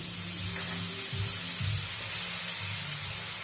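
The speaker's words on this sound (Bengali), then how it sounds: "সমস্ত কিছু দিয়ে একটু কষিয়ে নেব।" Kochur loti (taro stolons) sautéing in a pan with poppy seed paste, turmeric and salt, giving a steady, even sizzle and hiss throughout with no voices.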